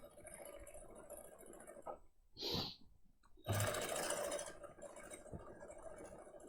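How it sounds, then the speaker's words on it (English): A sewing machine stitches free motion quilting with a steady, close, rapid whir that pauses briefly and then runs again. No voices are heard. "Exploring free motion quilting"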